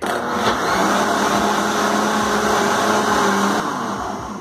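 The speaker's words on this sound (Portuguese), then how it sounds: "E agora nós vamos levar para bater." A kitchen blender whirs steadily, beating a Maria Mole pudding mixture, with a constant loud motor drone that holds without pause for several seconds and then eases slightly at the end.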